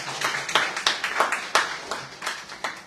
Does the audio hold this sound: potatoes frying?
no